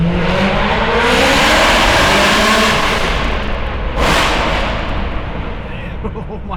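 A loud BMW M3 revving hard as it pulls away, leaving a car meet. The engine roars close and continuously throughout, staying dense and overpowering the whole time.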